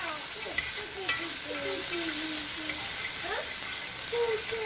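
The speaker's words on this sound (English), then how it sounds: "about a tablespoon of butter. Get that all melted." About a tablespoon of butter melts in a pan, giving a steady close sizzle with scattered pops and a few scraping strokes, no voices over it.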